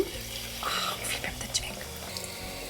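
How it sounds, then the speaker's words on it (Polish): Sparkling water from a SodaStream Art bottle pours into a small glass nearby, a short soft fizzing splash lasting a couple of seconds, fairly quiet against a faint room background. "teraz taką wodę wyjmujemy, nalewamy sobie do szklaneczki."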